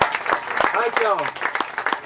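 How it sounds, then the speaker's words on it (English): An audience claps after a live blues music performance, a brief patter of applause with someone talking over it. "While y'all are clapping"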